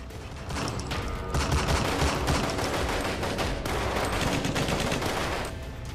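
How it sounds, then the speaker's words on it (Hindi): Sustained gunfire from a short film about a roadside ambush on a Qualis driver, a dense, continuous volley of rapid shots holding steady and loud for several seconds, with no talking. "सुलेम सराय में 2 दर्जन बदमाशों ने क्वालिस ड्राइव कर रहे विधायक राजूपाल को घेर कर ताबड़तोड़ फायरिंग की।"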